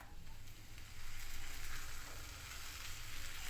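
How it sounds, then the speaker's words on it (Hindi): A paratha laid into oil in a hot frying pan gives a soft, steady sizzle, faint and fairly distant, with no voices over it. "फ्राई पैन मेरा गरम है, इसके अंदर मैं पहले ऑयल डाल रही हूँ और ये मैं पराठा इसके ऊपर डाल दूँगी।"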